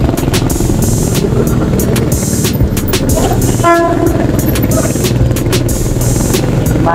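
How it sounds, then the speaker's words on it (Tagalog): A train rumbles past nearby with rhythmic clacking wheels, and a single horn blast sounds midway through the passing, loud and close on a city boulevard. "Madaan na tren."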